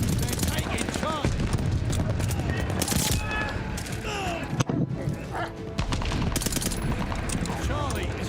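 Rapid gunfire in a multiplayer capture-the-flag video game match, with a player using incendiary bullets; dense, continuous bursts of shots fill the clip, with occasional higher whizzing and metallic effects over the steady barrage.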